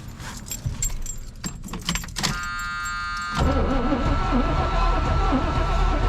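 Keys jangle in quick, bright bursts at first, then a tonal whine follows and a low engine-like rumble takes over as a 1980s square-body truck cranks.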